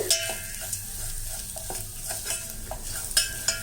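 Garlic for rasam roasting and being stirred in a pan with asafoetida, a steady close sizzle broken by light scraping taps of the spoon, no voices.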